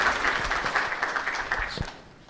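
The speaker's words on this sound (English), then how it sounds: "A round of applause" Audience applause for panelists at the close of a panel session at the RUPHA annual convention, a steady wash of clapping from a crowd lasting a couple of seconds and fading slightly at the end.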